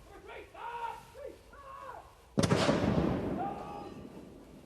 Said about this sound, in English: firing from the terrace at Hillsborough Castle. They'll fire 21 rounds at the rate of 6 rounds per minute.